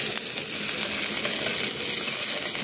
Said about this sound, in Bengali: এবার অ্যাড করব রসুন, আবার একটু ভালো করে নেড়ে নেবো, সেম প্রসেসে।